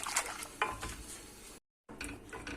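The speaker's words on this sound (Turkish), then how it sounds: "Şöyle güzelce karıştırayım sonra da hemen ocağıma alıyorum." Chocolate supangle pudding mixture being stirred in a pot, a spoon scraping and swishing with soft clinks against the metal, moderately close, with a brief pause before the stirring resumes.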